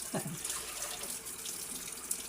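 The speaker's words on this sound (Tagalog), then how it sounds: "lagyan na natin tubig" Water runs steadily from a tap into a cooking pot, a continuous splashing hiss with no talking.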